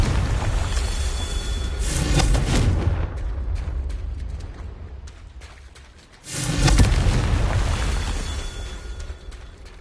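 A Confringo explosion spell in the video game Hogwarts Legacy, heard as two loud booming blasts, one near two seconds and a heavier one around six seconds, each trailing off in rumbling debris.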